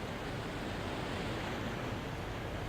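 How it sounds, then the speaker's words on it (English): Steady rushing roar of a waterfall in a building video game, a constant broadband wash of falling water with no breaks, even and fairly close throughout. "What's that noise? Oh, you know what? That's a waterfall."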